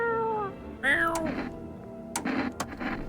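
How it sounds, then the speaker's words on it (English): A cat meows in a video game: one clear, drawn-out meow up close, followed by softer scattered sounds and brief clicks. "Reach out and pet the cat."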